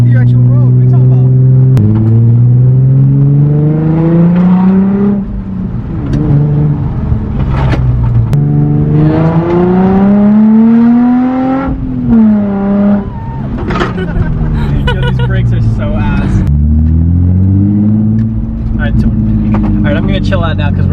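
Nissan 350Z with a stock DE engine pulling hard on a public road, loud rising engine note climbing through gears with brief dips at shifts, close-up from inside the car.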